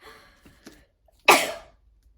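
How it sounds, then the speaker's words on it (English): A single sharp sneeze bursts out after a few small breathy sounds, close and abrupt, then quickly fades into quiet. "now I have to sneeze"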